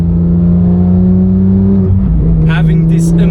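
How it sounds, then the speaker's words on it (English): A Porsche 911 GT3 of the 991.2 generation drives on the Sustenpass mountain road, its engine droning loudly and steadily up close, with a shift in pitch midway, while someone talks over it. "So I'm going to take now this car for a spin on the Sustenpass."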